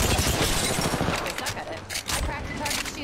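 Rapid bursts of gunfire in a video game battle, dense crackling volleys and booms rolling close and loud across the whole stretch, with a voice talking over them.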